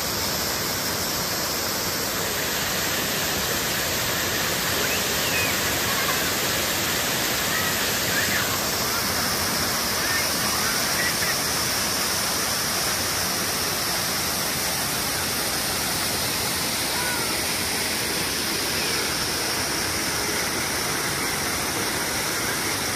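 Steady broadband rush of stream water flowing on Koh Rong, Cambodia, where people bathe, a constant wash of splashing flow filling the scene with no pause, close and fairly loud.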